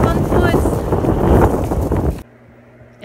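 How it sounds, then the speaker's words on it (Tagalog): Loud, roaring gusts of strong wind buffet the microphone for about two seconds, then cut off abruptly to near quiet. "Grabe, sobrang hangin."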